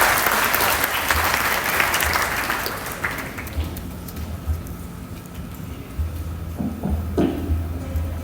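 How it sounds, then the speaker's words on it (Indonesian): Audience applause at a school award ceremony celebrating a Huawei ICT Competition result, a dense burst of clapping that fades to scattered claps with faint murmuring at the end. "Boleh beri tepuk tangan yang paling meriah."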